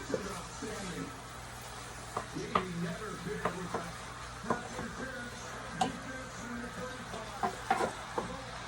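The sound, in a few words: food browning in a frying pan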